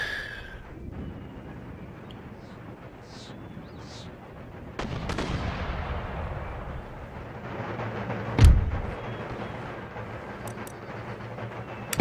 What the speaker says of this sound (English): keep shelling his mortars at the moment because they're the ones that can actually do us some damage